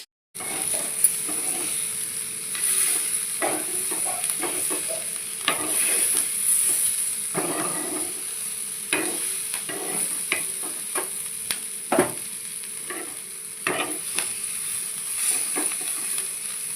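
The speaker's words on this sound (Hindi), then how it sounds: "सब्जी को मैंने चलाते हुए ही पकाया है" Capsicum and tomato sabzi fries uncovered in mustard oil with everyday spices, a constant sizzle broken by repeated spatula scrapes and knocks against the pan, close and clear with no talking.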